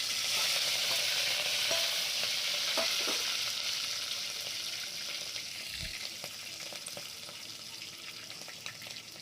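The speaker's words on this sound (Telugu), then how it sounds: "ఇప్పుడైతే హోల్ గరం మసాలా వేసుకున్నాము. ఇలాచి, లవంగ, చెక్క, సాజీరా వేసుకున్నాము." Whole garam masala spices (cardamom, cloves, cinnamon, shahi jeera) with green chillies and mint fry in hot oil, a close, steady sizzle that slowly softens, with occasional stirring clicks.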